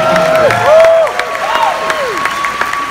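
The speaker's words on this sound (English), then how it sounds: "Give her a big round of applause." A crowd applauds at a movie world premiere red carpet event, with steady clapping and cheers running beneath loud tonal music and whooping sounds for a few seconds.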